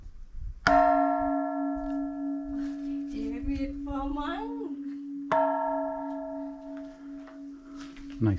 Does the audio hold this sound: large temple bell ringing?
yes